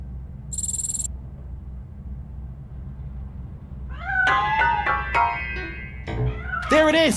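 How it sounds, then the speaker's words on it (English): After a brief electronic beep and quiet hum, a cat meows several times in close succession in the video game RoboCop: Rogue City, the cries growing louder toward the end. "That cat must be hiding inside."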